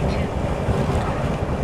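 Steady low rumble of a quiet truck engine heard from inside the cab, a constant muffled drone with road and wind noise and no talking.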